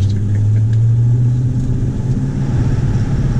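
A 1968 Ford Custom with a 302 V8 cruising on the road, its steady low engine drone and rumble filling the cabin continuously, loud and close, with no talking.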